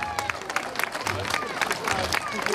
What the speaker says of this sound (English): Could we have a rousing round of applause, please, for our special guests?